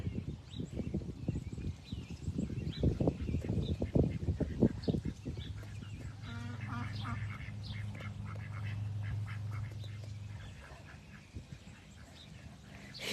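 Farmyard ducks give a rapid run of loud, close, raspy quacks, then a steadier nasal call and scattered softer quacks, with no talking.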